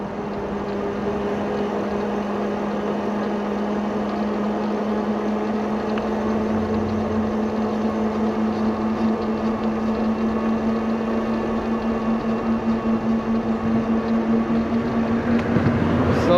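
Steady electric hum and whine from a Varun M26-2 Pro e-bike motor pulling up an incline, a continuous drone with a constant tone under road and wind rumble, holding even throughout.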